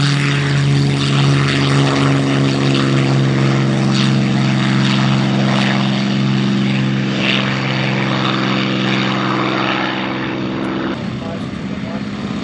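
Propeller-driven RC scale Trojan aircraft at an airshow, its loud continuous engine drone sustained close by before easing at the end, with a voice talking over it.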